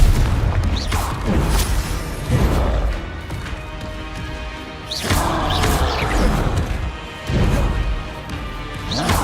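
Confringo fire spell blasts in Hogwarts Legacy, several loud crashing booms with whooshing impacts that recur in bursts roughly every few seconds, close and forceful.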